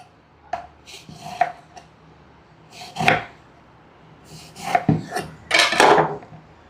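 Knife cutting ridge gourd lengthwise into medium-thick pieces on a board, a series of irregular close thuds and scraping chops with short pauses between them, no voices.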